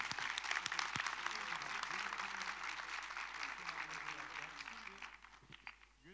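Audience applause for a guest invited on stage at a Turkic World theatre days event in Turkey: steady dense clapping from a large crowd that thins toward the end, with some voices faintly underneath.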